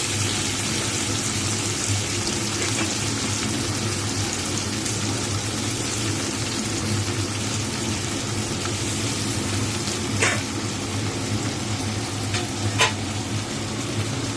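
Onions sizzle steadily in a hot pan, a continuous close frying hiss with an occasional stir or light clink of the utensil.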